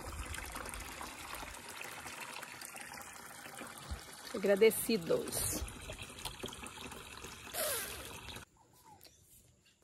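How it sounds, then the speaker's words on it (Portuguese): Water runs from a tap into a sink on a small farm, a soft trickle and pour under someone speaking briefly, louder bursts in the middle before it cuts off near the end. "Vamos soltar água aqui nessa pia."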